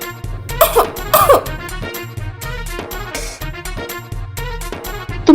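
A voice imitates an old grandmother's coughing with several short, rough coughs over bouncy children's music, loud and close.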